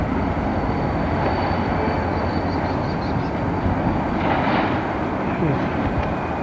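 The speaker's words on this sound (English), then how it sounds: "That's your train engine." A train engine drones in a continuous low, heavy rumble with a faint high whine above it, loud and close, with a brief swell of added noise partway through, near downtown Manhattan on September 11.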